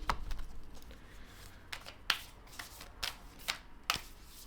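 A deck of playing cards being shuffled by hand, a run of crisp riffling flutters at the start followed by several separate sharp snaps and flicks of the cards, close and quiet.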